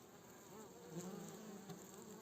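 Honeybees buzz steadily at a hive entrance narrowed with a cover, a continuous low droning hum that swells slightly midway and holds faint, close and alone throughout.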